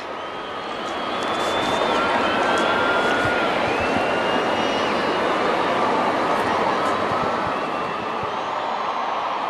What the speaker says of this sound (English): You can hear the fans getting louder in anticipation for this matchup today.